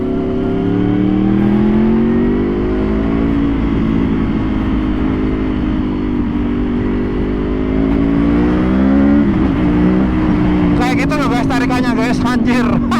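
A 2014 Yamaha R1 Facelift motorcycle accelerates hard on a test ride, its engine droning loud and close with rising and falling revs. Wind buffets the recording throughout, and a rider's voice breaks in near the end.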